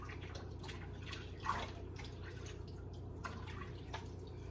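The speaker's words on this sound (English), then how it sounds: "Wash my hands." Hands are washed under running water in a home kitchen, a faint, soft splashing and dripping with a few louder spatters, heard quietly and without talk.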